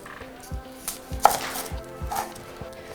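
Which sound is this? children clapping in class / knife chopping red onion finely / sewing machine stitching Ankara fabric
knife chopping red onion finely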